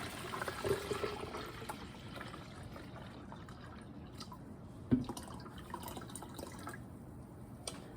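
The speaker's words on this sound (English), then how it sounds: "I'm going to take the gallon of tea or whatnot and pour it in." Tea from a gallon jug is poured into a pitcher, a faint liquid trickle and splash running under soft background noise, with a sharper knock midway as the container shifts.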